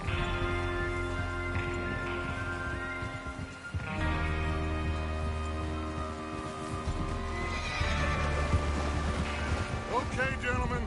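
Horse neighing and whinnying in the Red Dead Redemption 2 video game, loud long whinnies over steady background sound and hoof clip-clop, with a voice speaking.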